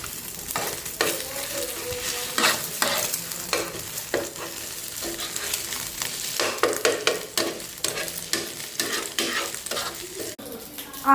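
Egg bhurji sizzles in a pan close up while a spatula stirs and scrapes it in repeated strokes, the frying hiss steady underneath with brief metallic clatters.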